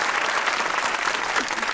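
A studio audience on a comedy talk show bursts into loud, close applause, a brief dense burst of clapping filling the whole moment.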